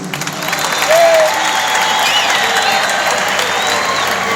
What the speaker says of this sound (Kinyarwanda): mubakomera amashyi menshi cyane